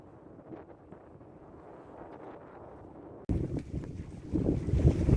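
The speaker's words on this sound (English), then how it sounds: "This is sailing into Portsmouth." A sailboat sails into the anchorage at Portsmouth, Dominica, with soft wind and water at first, then sudden loud buffeting wind noise gusting over the microphone.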